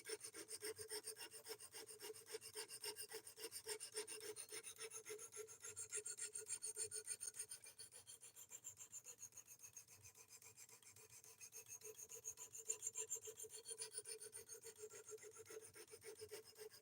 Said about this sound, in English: Right now we're working on sharpening the Devo Growler